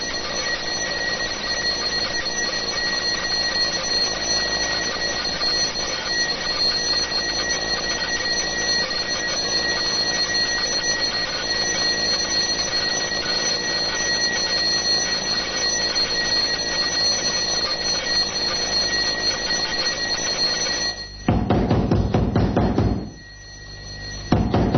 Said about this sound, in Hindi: देखिए इस घड़ी का अलार्म 2 बजे बज रहा है